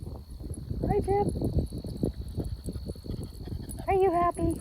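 A dog gives a few short, bright yips or whines close by on a wetland nature walk, then again near the end, over a steady high hum and background rustling.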